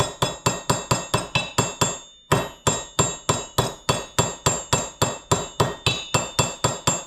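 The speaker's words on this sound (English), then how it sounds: "I usually try to just go around the edge until I get it to where I can't tap on it with a hammer anymore" Hammer tapping around the edge of a front hub bearing on a Honda 350X, a steady run of sharp metallic blows about three per second with one short pause, close and loud, no talk.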